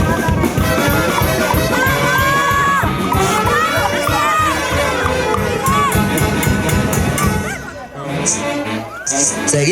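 Guests at a Peruvian house-warming celebration applauding, whooping and cheering as champagne is broken, loud and lively crowd noise with band music playing throughout, briefly dipping before swelling again.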